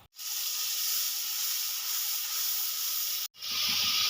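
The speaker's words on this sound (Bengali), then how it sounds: "এবার আমি একটা বড় সাইজের পেঁয়াজ পেস্ট করে রেখেছিলাম দিয়ে দেব" Onion paste hits hot oil already spiced with cardamom, cinnamon and cloves for a katla fish korma, producing a loud, steady hiss-sizzle that cuts out briefly, then bursts back just as strongly.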